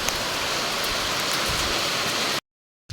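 Steady, dense rain falls loudly for a couple of seconds, then cuts off abruptly into silence.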